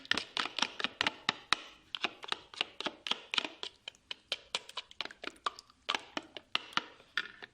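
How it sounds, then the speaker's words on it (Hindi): Three eggs whisked for an omelette, giving a steady fast run of sharp, close tapping clicks from the utensil striking the bowl, repeated evenly for several seconds without talk. "अब यहाँ पे 3 अंडे हमने लिए हैं, इनमें इसको इस तरह अच्छी तरह फेंट लेंगे"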